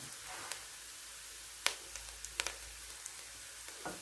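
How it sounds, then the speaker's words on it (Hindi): Spices dropped into a pan of fried vegetables for chicken fried rice, with a steady soft sizzle and a few sharp ticks and pops from the pan. "इसमें हम ये बाकी के स्पाइसेस डाल देंगे"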